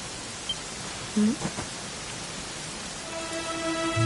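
Steady rain hisses in Dragon Quest XI, a broad, even wash of falling drops that continues throughout, with a few brief tonal game sounds rising over it toward the end.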